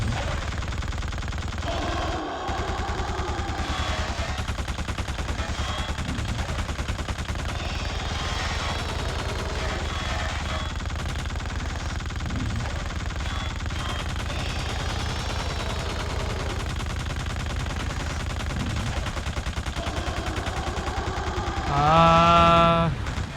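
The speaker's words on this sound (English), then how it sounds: "is there something else I'm meant to be doing other than shooting this guy?" Sustained rapid gunfire from the horror shooter video game The Suffering, a dense continuous rattle of shots under game sounds and eerie tonal effects, with a louder burst near the end.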